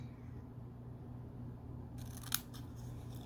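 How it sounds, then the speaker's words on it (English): Snips cut diagonally across the corner of a paper card with one brief, crisp snip close up, set against a low steady room hum. "I will take my snips, come to that corner edge and cut diagonal"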